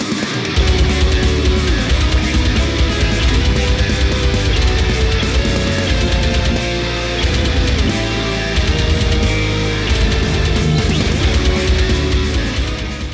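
Loud heavy metal video game soundtrack from the bullet hell shooter Danmaku Unlimited 2, with distorted guitars, pounding drums and fast melodic lines forming a thick, constant wall of sound.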